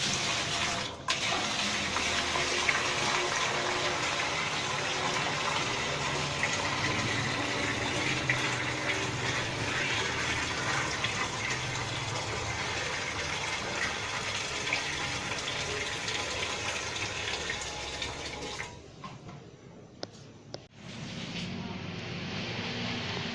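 A strong stream of water gushes steadily into a steel drum for a long stretch, then cuts off, leaving brief clatters and quieter noise.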